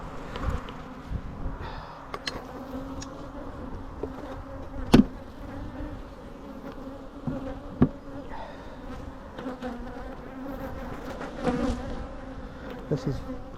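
Honeybees buzzing around a busy beehive, a steady low drone of many insects with individual bees zipping close past now and then, heard outdoors with no talk.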